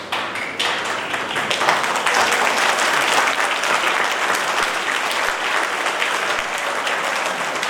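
An auditorium audience in Ranchi applauds at a poetry recital with loud, dense clapping that swells quickly and holds steady, with no voices over it.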